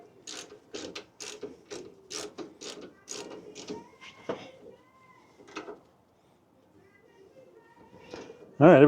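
A torque wrench ratchets in quick repeated clicks while tightening brake bolts on a 2013 Ford F150 during a brake job, the clicks coming in a close rhythmic series before the sound fades and a loud noise closes the clip.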